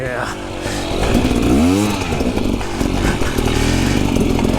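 A motorcycle engine revs hard and swells up and back down in pitch as the rider pulls a wheelie, loud and close throughout.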